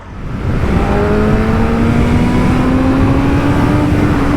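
BMW M 1000 RR motorcycle engine held at high revs against the rev limiter, a loud, steady, close-up howl with a slowly rising pitch that lasts throughout, with no talking.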